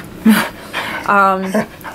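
A dog begs for a person's macaroni and cheese at home, panting and giving a loud, drawn-out whimper near the middle, with short vocal bursts around it.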